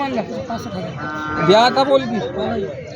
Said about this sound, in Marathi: शेतकऱ्याचे खूप मोठ्या प्रमाणात बैल आलेले आहेत